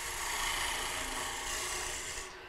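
Skew chisel cutting a round bead on a spinning wood lathe, a steady close, loud rasping scrape that holds evenly for about two seconds before easing off.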